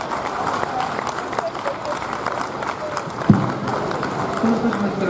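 Steady applause from an audience at a kavi sammelan poetry recital during Uttarakhand Mahotsav, honouring the poet Abhay Singh Nirbheek, a dense continuous patter with a sharp thump near the middle and voices mixed in.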